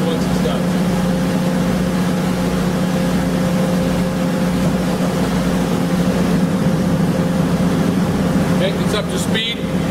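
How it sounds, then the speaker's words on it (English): A TwinGen generator engine runs with a steady low drone and hum through the whole stretch as it starts and comes up to speed, loud and close, with some faint clatter near the end. "engine is going to automatically go through its startup procedure, the 5-second start delay, followed by a 10-second preheat. And it'll automatically come up to speed once it's done."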